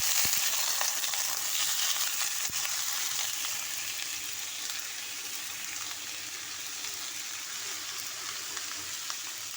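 Onions frying in a pan for a pakora curry, a steady close sizzle and crackle that fades a little over the clip, with no talking.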